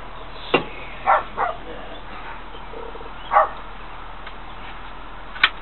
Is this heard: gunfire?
no